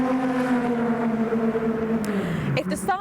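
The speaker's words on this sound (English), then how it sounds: "the sight of the Team Orica Viper going through its paces here on the track" A Dodge Viper GTS/R race car runs on a track with a steady, loud engine drone that sags in pitch, then brief higher-pitched bursts near the end.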